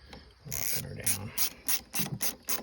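A hand ratchet clicks in short repeated bursts while tightening down a replacement purge valve on a Kia Rio, close and fairly crisp with brief pauses between strokes.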